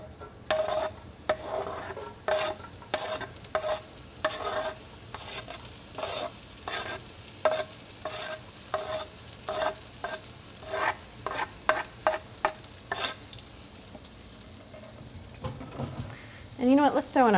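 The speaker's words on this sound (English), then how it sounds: "To this we're going to add some shallots and a little bit of green onion." Shallots and green onion sizzling in butter in a pan, a steady sizzle broken by a regular series of sharp scraping stirs, close by, with a voice briefly at the end.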